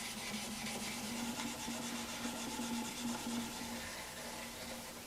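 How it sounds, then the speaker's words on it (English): Steady, soft rubbing hiss of 2000-grit sandpaper leveling a guitar's lacquer finish, continuous and fairly quiet with a faint rhythmic back-and-forth texture. "now that I'm done sanding"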